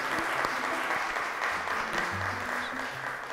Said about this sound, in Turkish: Arkadaşlarımızı alkışlıyoruz.